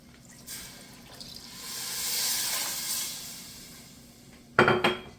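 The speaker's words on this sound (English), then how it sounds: "There's the water." Water poured into a soup pot of chicken stock while making Tuscan soup, a soft steady splash and hiss building over several seconds, followed by a brief louder clatter near the end.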